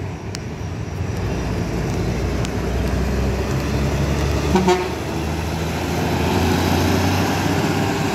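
A bus rolls past at night with a loud steady engine roar, and a short horn toot sounds near the start.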